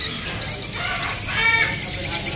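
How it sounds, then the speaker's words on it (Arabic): Rainbow-mix lovebirds chirping at a bird market in Baghdad's Adhamiya district, a dense, continuous chatter of high, sharp tweets and calls at close range. "طيور حب تركيبة ريمبو"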